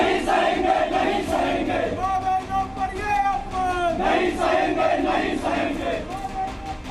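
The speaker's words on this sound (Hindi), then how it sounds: "प्रदर्शन करती भीड़ थाने पर पहुंची और पुलिस वालों से बहस हुई।" A protesting crowd outside a police station in Uttarakhand shouts and chants in loud, overlapping voices, a dense continuous roar with rising individual yells close by.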